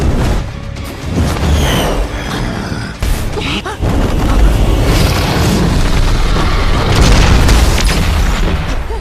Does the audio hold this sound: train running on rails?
no